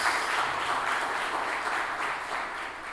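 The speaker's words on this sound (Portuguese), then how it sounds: "Você pode aplaudir o Senhor por isso?" Steady, dense applause from a crowd, sustained at an even level for the whole stretch with no speech on top.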